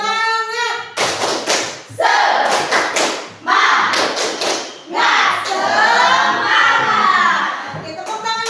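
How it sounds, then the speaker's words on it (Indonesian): A school class performs a rhythmic spirit clap, loud bursts of clapping and thumping in a patterned sequence with short pauses between groups, mixed with group chanting voices. "Tepuk semangat."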